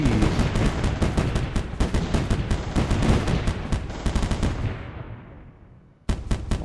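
Many artillery towers in M.A.C.E. Tower Defense pound away in a rapid, loud barrage of booming shots. The volley thins and fades into a decaying rumble, then a fresh burst of blasts cuts back in.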